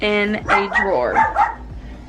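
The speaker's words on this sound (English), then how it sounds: "that's my dog barking at FedEx." A dog barks at a delivery driver, several sharp close barks and yips in quick succession, mixed with a person talking.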